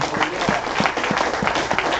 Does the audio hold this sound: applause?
yes